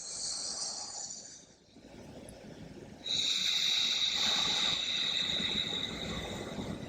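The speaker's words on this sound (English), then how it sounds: "as if you were trying to fog up a mirror, as you breathe in and as you breathe out, that's the sound that you're going to make with your mouth closed" Ujjayi yoga breath, exhaled through a constricted throat with the mouth closed, gives a soft, close hiss. One breath fades out and a longer, steadier one follows, alone without talk.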